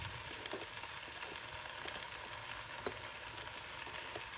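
Tomato and okra curry frying in a pan, a steady close crackling sizzle with small pops and light stirring scrapes, no talk.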